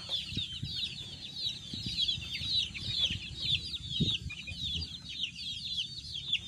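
Tornado hatch Mt. Banahaw hens cluck repeatedly in a busy, steady chorus at close range, with shrill chicken calls layered over low farmyard rumble and no talking.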